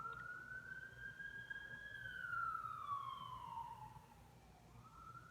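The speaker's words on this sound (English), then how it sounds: "police car." Police car siren wailing at a distance through evening Glendale, Los Angeles streets, one steady rising and falling tone sweeping over about five seconds above a low background hum.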